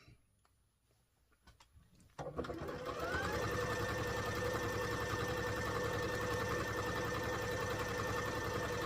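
Sewing machine stitching fabric quilt strips, starting after quiet handling sounds, then a loud fast steady whirring hum close up that runs continuously to the end.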